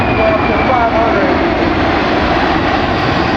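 A Boeing C-17 Globemaster jet flying past at an air show demonstration, a loud, steady, broad engine roar filling the air while an announcer talks over it.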